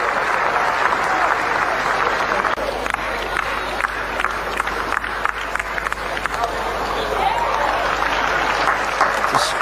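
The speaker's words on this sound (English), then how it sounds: "the Indian team joining in the applause" Cricket crowd and fielding Indian team applauding a batsman's century, sustained loud clapping and cheers filling the ground, with a commentator's voice faintly present beneath.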